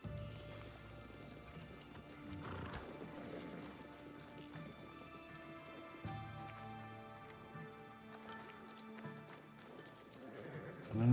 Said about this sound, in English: look at all the horses!